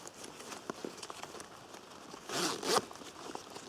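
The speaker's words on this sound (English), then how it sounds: "unzip it, and now that compartment becomes huge" A compartment on a British military tactical radio rucksack is unzipped, producing a faint rustle and then a clear, close rasping zip pull about a second long, with no talk.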